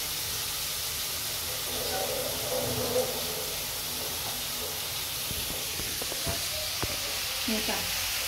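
Ginger, garlic, onion and tomato sautéing in a pan give a steady close sizzle and hiss, with a few scraping stirs and knocks near the end.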